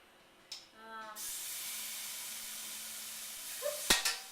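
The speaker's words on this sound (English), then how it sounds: "So, spraying the pan." A sustained broadband hiss of cooking spray onto a pan lasting a few seconds, preceded by a faint tone and followed by a couple of sharp clicks.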